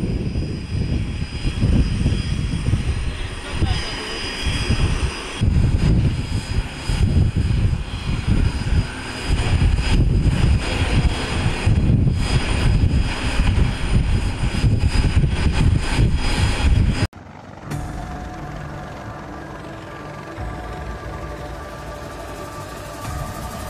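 An MV-22B Osprey tiltrotor aircraft flies close by with a loud, dense, throbbing roar of rotors and engines for most of the stretch. The noise then cuts abruptly to a quieter, steady engine hum.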